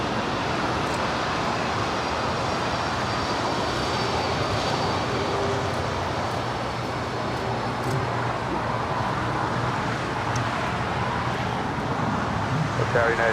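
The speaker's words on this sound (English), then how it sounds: "This is Delta 313 coming in from JFK." Delta Boeing 767-300ER arriving from JFK to land at LAX, a steady broadband jet roar that holds loud and even throughout, with faint talk underneath.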